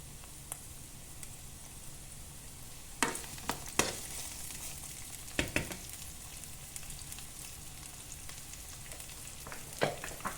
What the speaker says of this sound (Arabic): البصل والثوم، خليهم يتقليو شوية